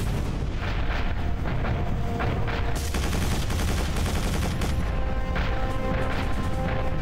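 A bombing run in the video game Quake 4, heavy booming blasts and rumbling explosions in a continuous loud barrage with rattling gunfire mixed in.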